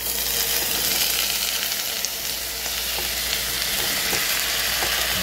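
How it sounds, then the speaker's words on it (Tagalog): Lamb meat and onions fry in a pan with a loud, dense, continuous sizzle that holds steady throughout, close up and free of talk. "Saka sunod ang sibuyas. Ayan, pwede na rin natin ilagay yung karne."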